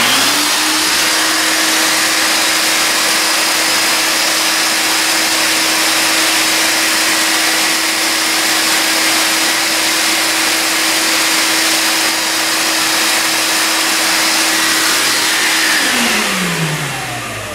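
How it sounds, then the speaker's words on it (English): A shop vacuum runs steadily under load, powered through a 12V inverter fed by 18650 battery packs, giving a loud continuous whine with a strong hum that holds for about fifteen seconds before winding down at the end. "I've got a shop vac here to give it a load"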